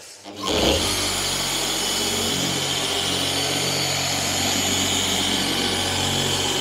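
A car polisher starts up and spreads polish over bodywork at slow speed, a sharp motor spin-up followed by a loud, steady whine with a constant low hum, close and continuous with no talk.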